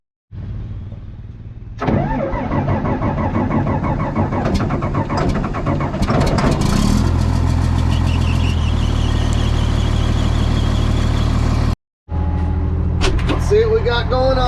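Excavator used for digging out a pond: the engine cranks, then catches and settles into a loud, steady low idle with some squealing and clatter, interrupted briefly by a short dropout near the end.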